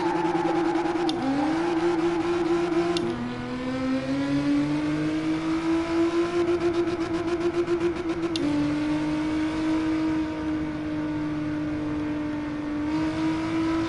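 Engine of a drifting car in the Gran Turismo Sport racing game, with warm rear tires, holding a steady high drone that dips at each gear shift and rises again, loud and continuous with no talking.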